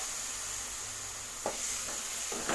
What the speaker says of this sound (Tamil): பட்டாணி நல்லா மசாலாவோட நல்லா மிக்ஸ் பண்ணி விடுங்க